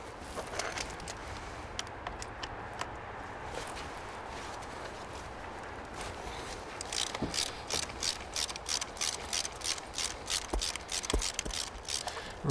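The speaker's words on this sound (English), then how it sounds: "Remove the bolt completely." A ratchet wrench loosening the drive shaft retaining bolt on a Honda CX500 motorcycle. The first half is quiet, then a run of crisp, evenly spaced metallic clicks follows at close range.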